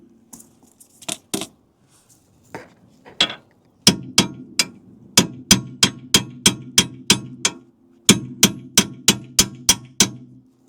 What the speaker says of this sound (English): Now when I tap that with a hammer, that'll come through.